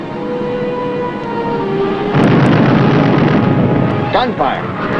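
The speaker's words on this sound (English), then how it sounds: "Gunfire." A loud, sudden burst of gunfire from a WWII submarine, USS Bergall, kicks in halfway through, rumbling and crackling over a droning engine, with a voice briefly calling out near the end.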